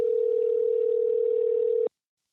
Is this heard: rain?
no